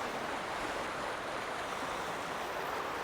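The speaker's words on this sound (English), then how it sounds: "We are literally creekside on the Tenmile Creek here in Frisco" Tenmile Creek in Frisco flowing right behind a creekside condo, a steady, dense rush of moving water that holds an even level throughout with no voices.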